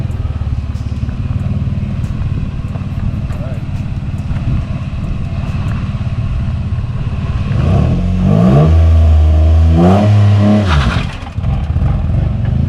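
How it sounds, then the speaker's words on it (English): A car engine revs hard at a standstill during a burnout, a loud sustained roar that climbs sharply in pitch with repeated surging revs toward the end. "rev up, dump the clutch"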